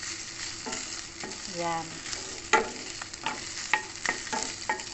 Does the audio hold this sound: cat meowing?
no